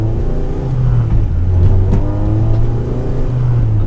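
A Honda B18C5 engine fitted with individual throttle bodies drones loudly from inside the moving car, holding a steady, buzzy rev with slight rises and dips and a strong low rumble throughout.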